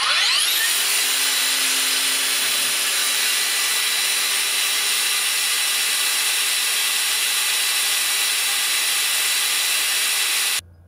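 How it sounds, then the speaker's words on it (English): A Makita 40V cordless angle grinder spins up with a rising whine and holds a steady, loud, high-pitched run for about ten seconds before cutting off abruptly at the end, with no talking. "So let's go get the angle grinder out and test some RPMs."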